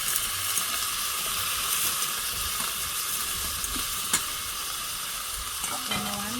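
Garlic frying outdoors in a pot for Jamaican-style cooking gives a steady, dense sizzle and hiss throughout, with a few faint clinks and no talking.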